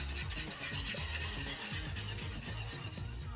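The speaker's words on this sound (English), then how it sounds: "I'm using this whisk to break up any lumps." A whisk stirs a sauce with vegetables for chicken pot pie, breaking up lumps; steady rhythmic scraping and swishing strokes, close and fairly quiet, with no talking.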